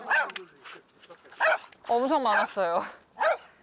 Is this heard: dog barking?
yes